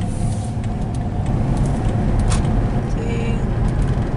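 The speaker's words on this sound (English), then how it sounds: "Traffic jam." Road traffic in a slow-moving jam near a state park, a steady broadband engine rumble from cars and heavier vehicles throughout, with a brief higher whine or brake hiss midway and no talk.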